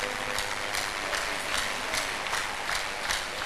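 Congregation at an outdoor crusade clapping, fairly even rhythmic claps heard from a distance and somewhat faint, with no clear talk over them.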